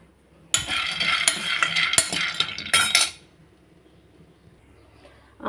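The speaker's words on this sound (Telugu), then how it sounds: "పల్లీలు నీట్గా వేయించుకోవాలండి." Peanuts dry-roasting in a pan, rattling and scraped by a spatula in a busy burst of clinking and stirring for a few seconds, then near quiet.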